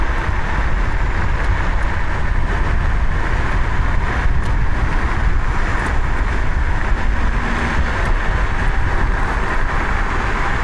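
Electric scooter running two motors in third gear at about 70 km/h on an open road, giving a steady, loud broadband rush of wind and road noise with a faint motor whine throughout.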